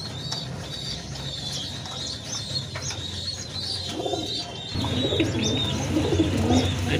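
Khaki pigeons coo in soft repeated throaty phrases close by, with light chirps from other birds around them and a louder mix of cooing near the end.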